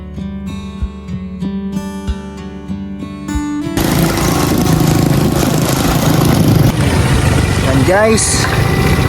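A motorcycle engine idles after a quieter stretch of ringing, tonal knocks, settling into a steady mid-pitched rumble through the second half while someone talks over it.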